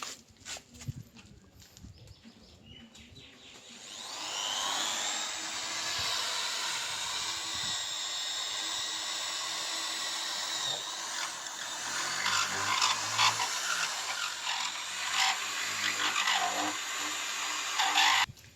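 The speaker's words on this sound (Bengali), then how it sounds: "তো দেখুন এইভাবে ড্রিল করে রডটিকে ঠিক জায়গা মতন বসিয়ে দিতে হবে" A power drill starts up after a few seconds and whines steadily, its pitch wavering while it bites into material to set rods for dragon fruit plant posts, with faint clatter around it.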